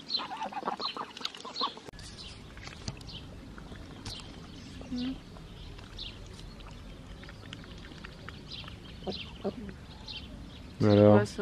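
Ducks quack softly in a garden with raised beds, scattered calls at a distance over quiet background murmur, with a voice speaking now and then.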